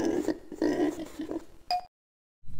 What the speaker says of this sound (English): what sound do you think the piggy makes? Press a key to find out.